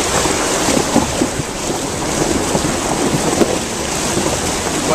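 A Suzuki four-wheel drive on a Cape York track fords a creek, giving a steady, loud wash of splashing and churning water with low rumbling throughout and no speech.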